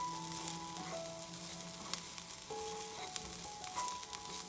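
Fenugreek leaves hit hot spiced oil for a red lentil curry, giving a steady close sizzle and frying hiss with faint tonal background sounds and no talk.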